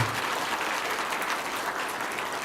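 A church congregation during a Sunday morning service claps in welcome, a full, steady wash of applause from many people, moderately loud and continuous for the whole stretch without talk.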